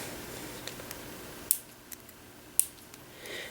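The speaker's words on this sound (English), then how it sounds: "Pull your strings, and then we can snip our strings off" Two sharp, isolated scissor snips on craft string, quiet and close, spaced about a second apart with faint handling noise between.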